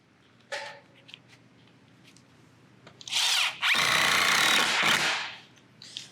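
A power driver sinks trim head screws into hand-hewn box beam skins, a couple of brief taps and handling noises followed by two loud, sustained whirring bursts up close.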